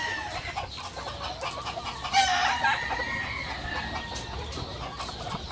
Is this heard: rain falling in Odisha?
no